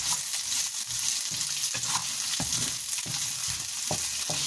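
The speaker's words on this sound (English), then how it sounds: "So in this pan now I'm going to add 2 teeny tiny chopped onions" Two small chopped onions fry in a pan with a steady bright sizzle, punctuated by intermittent scraping and stirring knocks against the pan.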